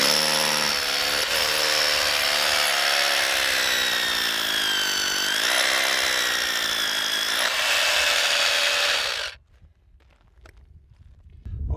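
A power drill bores a hole into the salt flat crust, whining steadily at high pitch for about nine seconds with a slight dip and rise in speed before stopping abruptly, leaving faint wind.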